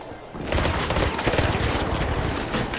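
Rapid, sustained automatic gunfire from a light weapon in the online shooter game The Finals, loud and dense with overlapping shots and game effects throughout.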